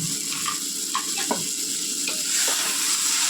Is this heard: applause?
no